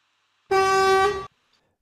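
A single sustained car horn honk, loud and steady for under a second, cutting off abruptly into silence.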